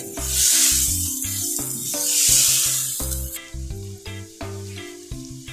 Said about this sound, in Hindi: जब तक हमारी ये वेजिटेबल्स थोड़ी सी कुक होती हैं